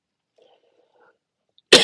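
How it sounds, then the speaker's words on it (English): A single sharp cough bursts out close and loud after near silence. "coughing again"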